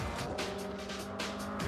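Race cars at the start of a 2004 American Le Mans Series race roar past in a steady, loud engine drone with pulsing swells, heard alone.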